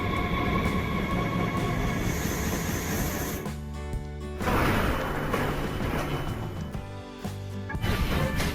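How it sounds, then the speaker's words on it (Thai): A train in the Minecraft Transit Railway video game pulls in and runs, with steady rolling rumble, repeated rhythmic clacks and a tonal whine, close and loud with no talking. "โอเครถไฟมาแล้วนะครับผม"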